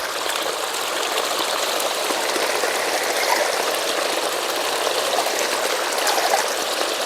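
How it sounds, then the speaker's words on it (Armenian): Clean spring water flowing steadily outdoors, a continuous close rushing and trickling stream with no pauses or voices. "Մաքուր ջուր։"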